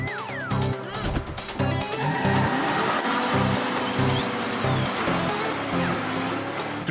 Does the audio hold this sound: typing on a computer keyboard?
no